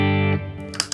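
Electric guitar with the boost pedal switched off, one sustained chord ringing briefly before it is cut off and followed by a couple of faint clicks.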